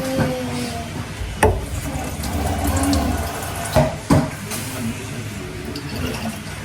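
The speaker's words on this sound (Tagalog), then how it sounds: "Tapos lalagyan po natin ng kaunting tubig ito." Water poured from a bottle into a pan of sweet chili sauce during cooking on a rooftop, a steady running splash with a few sharp knocks and clinks partway through.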